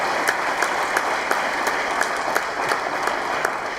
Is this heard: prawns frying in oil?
no